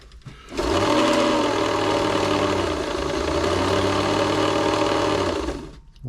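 Singer 507 sewing machine winding a bobbin, a steady close mechanical whirring hum that starts abruptly, runs evenly for about five seconds, then winds down.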